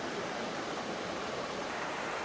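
Mountain valley stream at Yeonha Valley in Yeongwol, its water rushing in a steady, close, full hiss without pause and with no voices.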